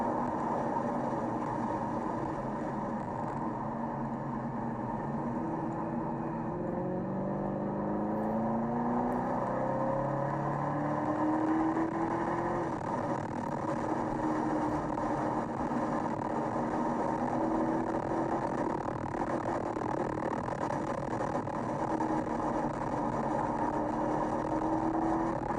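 Chevrolet Camaro ZL1 and Ford GT350 race on a track, engines droning steadily and loudly throughout with rising and falling gear sweeps, heard alone without talk.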